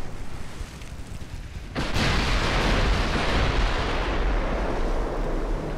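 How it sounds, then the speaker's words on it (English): Torpedo launch from a French light cruiser in a naval warship game: a sudden loud whooshing burst that swells into a sustained, roaring rush, heavy and close over a steady background of battle noise. "That was a torpedo launch from the Adomarche. That's a light cruiser."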